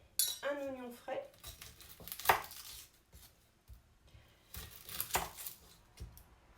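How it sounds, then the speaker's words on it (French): A knife slicing a fresh red onion into thin strips on a board, a quiet series of irregular cuts and taps with short pauses between strokes. "je vais couper en lamelles un oignon frais"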